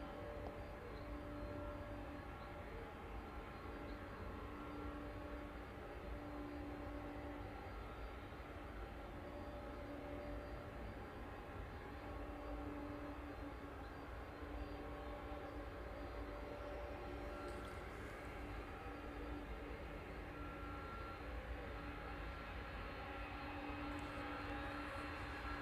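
A departing Airbus A300 jet bound for Brussels roars steadily at an airport on a windless day, a broad continuous engine rumble and hiss that stays even and fairly distant throughout.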